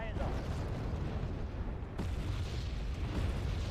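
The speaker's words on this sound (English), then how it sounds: "Is that a mortar? It is." Mortar fire in Wargame Red Dragon, a steady rumbling barrage of booming explosions with a sharper blast midway, heard at moderate distance beneath a voice.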